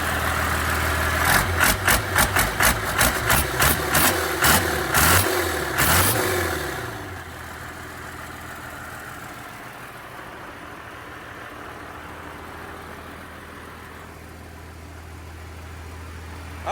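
A 1986 Chevrolet K3500 truck with a swapped 12-valve Cummins diesel, revved in a run of sharp, pulsing bursts before settling into a steady, loud, rumbling idle with no talk.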